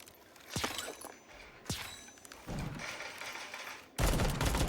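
Gunfire bursts in the Bullet Echo mobile shooter game, several sharp cracks and a rattling volley, loud and close, with a heavier burst near the end and no talking.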